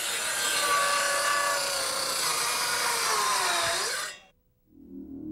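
A Porter Cable 19.2-volt cordless saw rips through 2x lumber at a 45-degree angle in one pass: a loud, steady whining cut for about four seconds, then the blade stops abruptly and the motor winds down.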